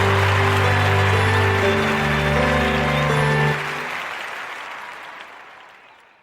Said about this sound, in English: Thanks y'all for the round of applause.